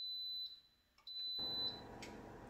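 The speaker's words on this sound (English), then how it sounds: "my Instant Pot just beeped that it's finished" An Instant Pot beeps to signal its cooking cycle is finished: thin high electronic tones in short bursts, fairly faint, followed by a soft hiss of background noise.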